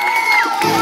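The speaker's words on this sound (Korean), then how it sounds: "큰 박수 부탁드립니다" An audience at an apartment-complex festival stage in Ulsan cheers and whoops, a short burst of crowd noise with shrill voices rising over a bright, sustained tone.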